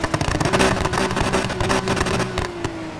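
In Need for Speed Heat, a car engine roars to life and idles roughly, with a burbling, popping exhaust that stays loud and close across three seconds, with no speech.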